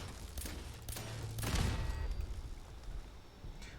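Turret gunfire in Fallout 4, a few quick bursts of shots with a heavier blast near the middle, fairly quiet and set against low game ambience.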